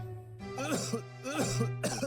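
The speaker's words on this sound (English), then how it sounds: "Him coughing and coughing up blood" Several rough, wet coughs from a man in a video game, in quick bursts, close and fairly loud, separated by brief pauses over a steady low hum.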